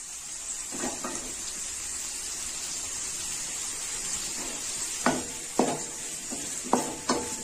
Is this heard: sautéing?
yes